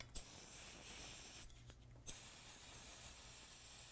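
Short hissing bursts of freeze spray from a nearly empty can, used like canned air over a MacBook logic board; faint, close, with two or three brief puffs and a soft rub.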